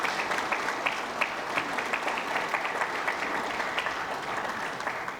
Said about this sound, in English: Applause for our Board of Directors.